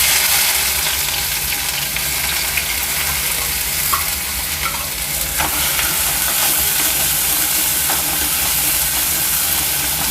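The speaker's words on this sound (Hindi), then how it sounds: "हमारा तेल गरम हो चुका है। अब हम प्याज इसके अंदर डालते हैं।" Onions frying in hot oil while cooking stuffed eggplant (bharwa baingan), a steady loud sizzle and hiss across the whole stretch with faint stirring clicks, no talking.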